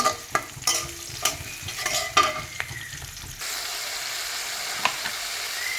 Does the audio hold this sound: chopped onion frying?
yes